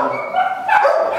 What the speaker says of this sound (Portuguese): Desceu o cachorrinho da vizinha.